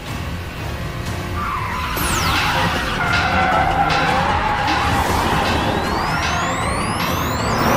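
Modified Toyota 86 race car skidding downhill in the anime MF Ghost: a sustained loud tire squeal with rising and falling pitch sweeps over a continuous engine roar, close and intense throughout.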